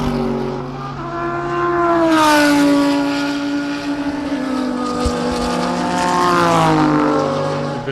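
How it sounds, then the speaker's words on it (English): Race cars, including an MJR Audi, accelerating out of a corner onto the back straight at Zwartkops Raceway, engines rising and shifting in pitch as they pass loud and close, overlapping whines swelling and fading. "We're now watching Charles Laurentiis come out of turn 2 and accelerating into the back straightaway."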